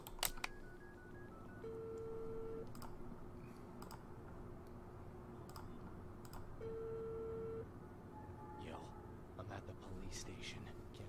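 A telephone is dialed in the video game Unheard, with tonal beeps and keypad clicks over a low hum and room noise, faint and spread across the clip, and voices talking underneath.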